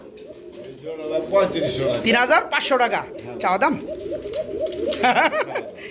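Large-size racing homer pigeons coo in soft, throaty bursts throughout, mixed with someone talking close by over steady background noise.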